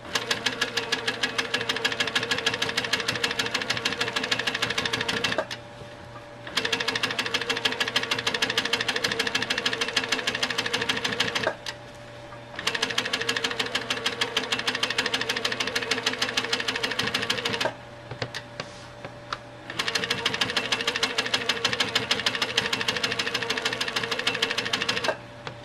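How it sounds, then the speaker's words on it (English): A Handy Quilter sewing machine stitching in the ditch on a quilt block, a fast steady mechanical hum-and-needle rattle running in long close runs, broken by several short pauses, with no talking. "I'm going to stitch the other half and work my way back up."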